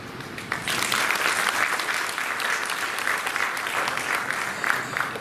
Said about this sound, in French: C'est ici aussi l'occasion de vous demander d'applaudir Professeur Etienne Haïté